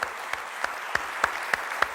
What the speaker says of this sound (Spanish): Denle un aplauso al Rey por eso, hermano